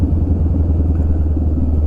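A Honda Rebel 500 motorcycle rides along with a steady low engine drone and road rumble, loud and close, with no talking.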